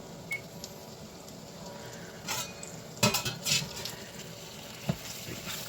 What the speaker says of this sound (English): just make sure we stir these up so they don't get too crispy in any area